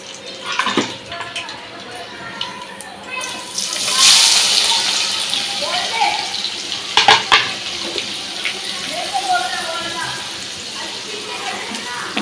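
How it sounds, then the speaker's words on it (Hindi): Cumin seeds and bay leaves crackle in hot oil in a pan as onions go in for palak paneer. A steady, hissing sizzle runs throughout, swelling louder partway, with a clatter of utensils and a voice talking over it. "ये तो क्रैकल हो रहा है, तो वैसे ही हम इसमें प्याज डालेंगे।"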